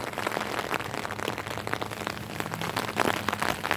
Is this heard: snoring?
no